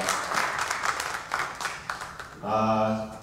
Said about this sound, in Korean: 우리 먼저 박수 한번 할까요?